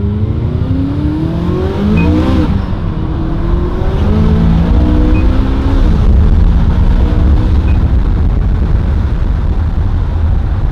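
A McLaren 570S with valved exhaust and high-flow downpipes revs loudly and close, the engine note rising and falling in several throaty pulls with a deep rumble throughout.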